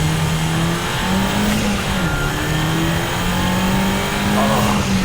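Mk5 Golf GTI accelerating hard to merge onto a highway, engine note climbing steadily through the revs with a shift dip, loud and close from inside the cabin over road and wind noise.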